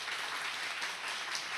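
Church congregation applauding to welcome new members, a dense, even wash of many hands clapping together, moderately loud and sustained throughout.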